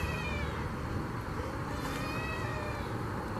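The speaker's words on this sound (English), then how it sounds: "What initially sounds like a cat meowing" A cat-like meowing call rises faintly out of a dense night forest, thin and wavering over a steady hiss of insects and rustling background noise, with no voices nearby.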